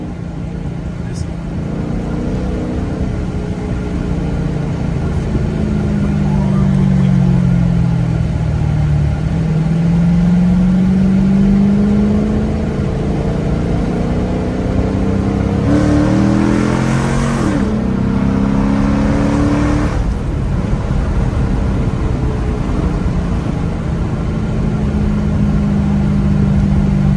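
Straight-piped 2006 Dodge Charger R/T engine idles with a deep, loud rumble, rising and falling through several revs, with people talking nearby throughout.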